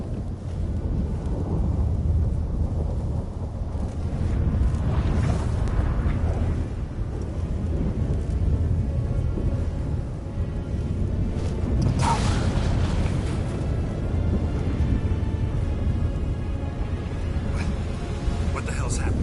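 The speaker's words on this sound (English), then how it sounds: "That a storm?" A rumbling thunderstorm breaks in The Witcher video game, a continuous loud low roar with a brighter crack near the middle, under music and in-game voices.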